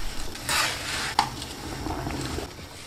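Spaghetti poured into a pot of salted boiling water, a rushing splash followed by a clink and a soft bubbling, with no talking.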